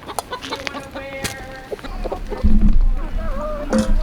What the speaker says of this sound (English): I wonder if these chickens are okay.